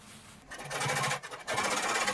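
A sewing machine double-stitches the outside edge of a coin pocket on very thick selvage denim jeans, running in two close, loud bursts separated by a short pause.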